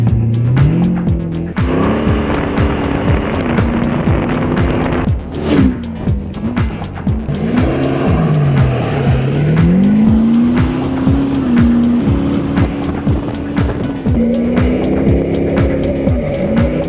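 An off-road race car runs a 1.2 km hot lap at an off-road racing venue in Brisbane, its loud engine revving and shifting continuously with tires squealing, heard up close from inside.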